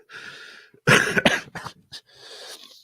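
A wet, raspy cough bringing up phlegm bursts out between heavy breaths. Throaty hacking sounds come in short rough spurts, bracketed by harsh breathy exhales.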